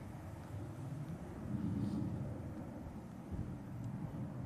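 A Ryanair airliner arriving at Manchester Airport produces a steady, broad low rumble with some wind buffeting. It holds at a moderate, distant level throughout, with no talk.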